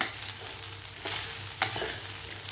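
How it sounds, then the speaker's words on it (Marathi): A spoon scrapes and stirs sabudana khichdi in a hot pan, with a few sharp scraping strokes over a constant low sizzle, close up and without speech. "व्यवस्थित आपल्याला हलवून घ्यायचं आहे साबुदाणा"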